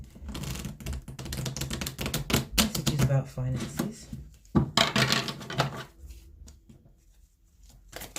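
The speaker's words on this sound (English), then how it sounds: "it's so hard to shuffle this" Rapid, crackly flicking of tarot cards being shuffled in quick bursts, close by, with a person talking over parts of it.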